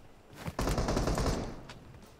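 A burst of suppressed VSS rifle fire in a video game, several dense, muffled shots running together for about a second before fading into a lighter trailing shot or two.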